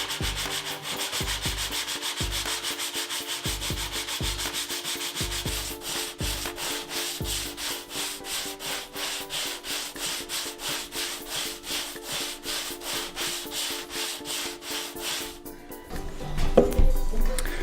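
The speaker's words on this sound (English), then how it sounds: "I have the sanding block with some 80 grit sandpaper. I'm gonna sand down the resin." Sanding block with 80 grit sandpaper rubbing over cured resin on a surfboard ding repair, steady close back-and-forth scraping strokes in a continuous rhythm, ending with a brief louder clatter.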